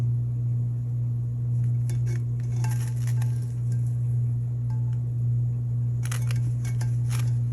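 Scissors snip washi tape along the seams of a craft tumbler, several short crisp cuts clustered in bursts over a steady low electrical hum.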